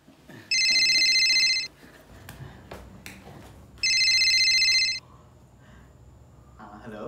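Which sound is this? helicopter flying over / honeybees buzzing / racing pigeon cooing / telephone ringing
telephone ringing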